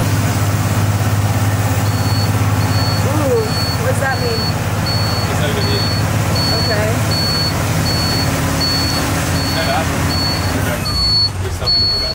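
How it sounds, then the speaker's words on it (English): A bus sounds a warning alarm, a steady series of short, evenly spaced high beeps repeating for several seconds over the low rumble of the idling engine, with faint voices in the background. "The bus started beeping an alarm I've never heard before."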